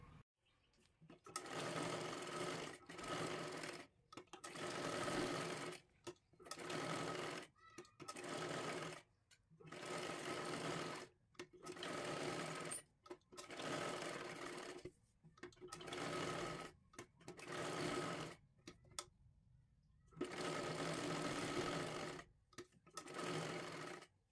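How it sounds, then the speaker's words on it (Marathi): A sewing machine stitches the lining of a katori blouse in repeated bursts of a few seconds each, separated by short quiet gaps, close and steady throughout. "पूर्ण व्यवस्थित आपल्याला त्याला शिलाई करून घ्यायचं आहे"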